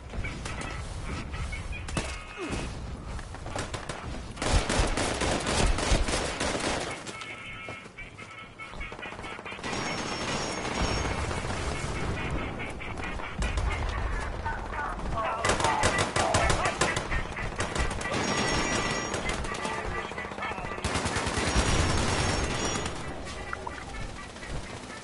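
Repeated bursts of automatic gunfire in Fallout 76, rapid rattling volleys near and far that keep coming and going over a busy game soundscape, with a voice talking at points.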